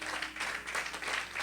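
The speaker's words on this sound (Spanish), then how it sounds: "Así que denle un aplauso al Señor," Church congregation applauding together, a steady wash of mid-level clapping that swells and dips in waves over a moment, with faint voices mixed in.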